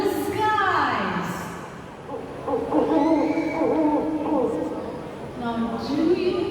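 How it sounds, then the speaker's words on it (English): Owl hoots at a night safari amphitheater show, sounding as a series of low, wavering calls that rise and fall across the stretch, with a person talking over much of it. "It is a familiar call of an owl."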